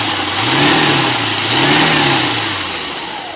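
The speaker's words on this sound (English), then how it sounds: "now it's gonna get a little noisy, guys. So we're just gonna go ahead and kind of mince it and mix it up more." Food processor mincing hummus ingredients, a loud close motor whir that swells and dips in pulses over its noisy grinding drone, no voices.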